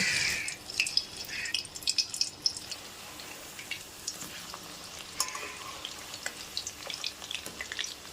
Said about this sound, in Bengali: একইভাবে সমস্ত চিকেন পকোড়াগুলিকে ভেজে নেব